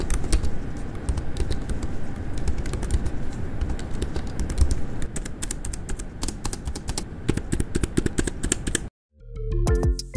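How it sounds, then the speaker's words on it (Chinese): Fingers type rapidly on the soft membrane keyboard of a Razer Blade 16 laptop (i9-13950HX, RTX 4070): a close, continuous patter of light key clicks, a brief silence, then a few final keystrokes. "这边也提供一段键盘收音"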